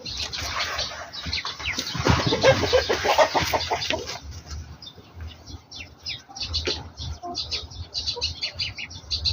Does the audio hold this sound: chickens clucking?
yes